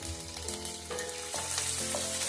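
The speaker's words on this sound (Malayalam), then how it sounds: "ചൂടായ എണ്ണയിലോട്ട് നമ്മൾ ഇഞ്ചി ഇട്ടു." Ginger fries in hot oil over low flame, a dense continuous sizzle with stirring, close and fairly loud, no voices.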